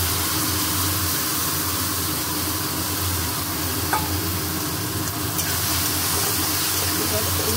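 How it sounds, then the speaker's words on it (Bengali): Ground spices with ginger, garlic, salt, turmeric, cumin and dry chili powder frying over fried onions in a pan, a steady loud sizzle and hiss with occasional stirring scrapes, no talk. "এই মশলাটা খুব ভালো করে কষাবো, এর থেকে তেল ছাড়বে।"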